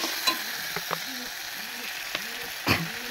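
Vegetables frying in a pan, a steady sizzle running throughout with a few brief stirring scrapes and clinks of a utensil against the pan.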